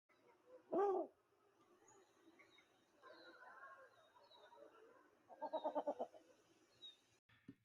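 Snowy owl calling in a wintry setting, with a loud, low hoot near the start and a later burst of several rapid pulsed notes, against faint background noise.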